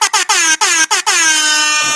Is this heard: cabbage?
no